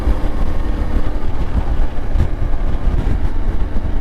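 Yamaha Tenere 700 motorcycle with a 2025 twin engine, steady loud low engine drone and rumble while engine braking on a commute ride, continuous with wind noise and no speech.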